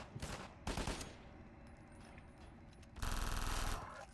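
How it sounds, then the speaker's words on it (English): Submachine gun fire from a Half-Life mod, a remake of the 2001–2002 SMG model, comes as loud bursts of rapid automatic shots, with a short burst early, a longer one near the start, and a heavy sustained burst toward the end. "What's that sound of SMG?"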